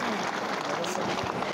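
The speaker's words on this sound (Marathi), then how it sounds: "एकदा त्यांच्याकरता जोरात टाळ्या वाजायच्या" A crowd claps loudly at a devotional Navnath katha gathering at the Nath ashram in Verul, dense continuous applause with voices talking over it.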